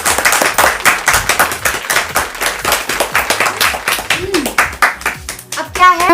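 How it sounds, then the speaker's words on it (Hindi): A few people clap at a family get-together after a song, quick uneven claps close by, with voices talking over them near the end. "हो गया, ताली बजा दो।"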